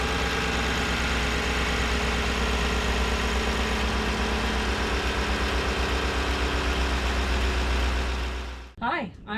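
A 2018 Chevy Silverado pickup engine idles steadily to warm up after a transmission job, a close, even low rumble that runs for most of the clip before cutting off, followed by a couple of soft knocks.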